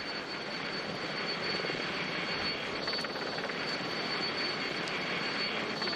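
A helicopter filming the Tour de France pack from overhead gives a steady, continuous engine and rotor drone with no pauses.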